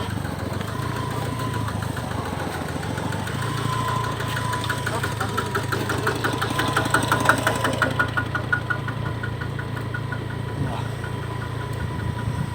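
A rice-planting machine's engine runs steadily in a paddy field, a continuous low rumble with a rhythmic knocking pulse, close and fairly loud throughout, with faint voices in the background.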